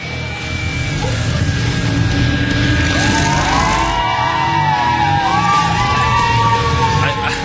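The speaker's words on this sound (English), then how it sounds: "I have never heard Korean fans cheer for a Nexus like that." Crowd of Korean fans at a StarCraft match roaring and cheering loudly and continuously, with high whistles and shouts rising over the sustained crowd noise.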